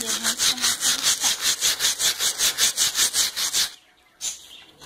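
Sandpaper scrubbed back and forth over a wooden corner piece in quick regular rasping strokes, loud and close, stopping near the end before one last brief stroke.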